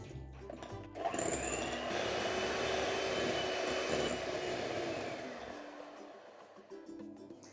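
An electric mixer beats 200 grams of real butter for a coffee buttercream, with a steady mid-level whirring drone that starts after a second, holds, then eases off toward the end.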